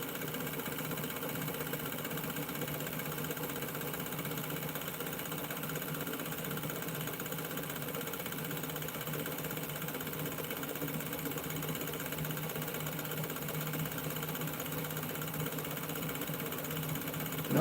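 A homemade pulse motor running on a mechanical switch, giving a steady, even whir and buzz that holds unchanged from start to end, close and moderately quiet, no voices.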